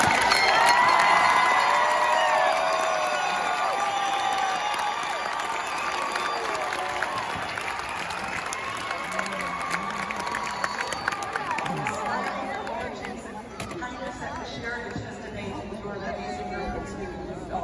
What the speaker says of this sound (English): We give them all a big round of applause.